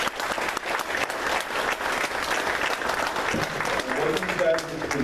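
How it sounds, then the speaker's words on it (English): Sustained applause from a roomful of people at a political gathering, steady and dense for the whole stretch, with a few voices and cheers mixed into the clapping. "every leader here in this room deserves your respect and round of applause"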